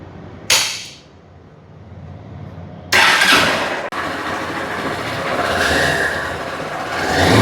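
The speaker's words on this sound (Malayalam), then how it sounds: "റിഫൈൻഡ് ആയിട്ടുള്ള വൺ സിക്സ്റ്റി എഞ്ചിനാണ് വരുന്നതെന്ന് പറഞ്ഞല്ലോ നമുക്ക് ജസ്റ്റ് സ്റ്റാർട്ട് ചെയ്ത് കാണിച്ചു തരാൻ വേണ്ടി" A Honda SP 160 motorcycle with a 160 cc engine is started with a sharp burst and then settles into a steady, close idle that swells slightly toward the end, with no talking over it.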